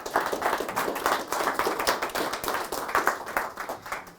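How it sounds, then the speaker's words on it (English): Audience at a lecture on baseball in Colorado claps for the lecturer Roger Hadix, a moderately sized group producing steady, slightly uneven clapping that continues throughout. "Please give Mr. Hadix a round of applause"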